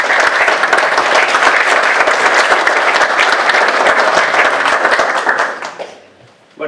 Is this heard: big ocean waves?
no